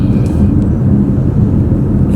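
Road traffic on a busy two-way street heard from inside a vehicle, a loud, continuous low engine and road rumble with no distinct passes or horns.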